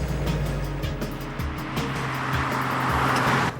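Steady engine drone from a Triumph TR5 classic sports car on the move, loud and continuous with low rumbling pulses and wind or road roar throughout, no voices.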